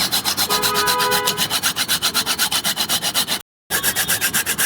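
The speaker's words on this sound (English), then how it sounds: "I'm going to grate some nutmeg" Nutmeg being grated for French toast, a steady run of quick, even rasping strokes close up, about two per second, with a brief pause near the end before the rhythm resumes; no voices.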